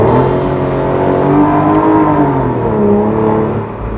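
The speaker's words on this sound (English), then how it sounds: "This engine is just magnificent." An Aston Martin DBS Volante's V12 engine revs and pulls loudly up close, a smooth, sustained roar with rising and falling pitch and no talking.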